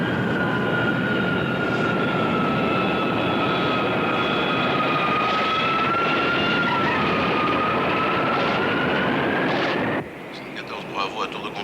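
Steady droning whine of an airplane engine in flight in a 1976 TV crime drama, loud and continuous with a sustained tone, then cutting down abruptly near the end while voices speak.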